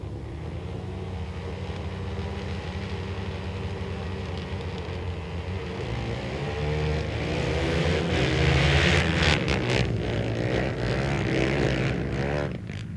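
Flat track racing motorcycles, open class Hondas and a lone Yamaha, droning loudly as a pack with layered engine tones rising in pitch and volume as the bikes accelerate and sweep closer, then fading slightly.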